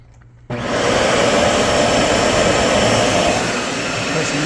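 A Dyson vacuum cleaner, brushes not spinning, switches on abruptly after a quiet moment and settles into a loud, steady high-pitched whine with a rushing airflow roar, close and alone.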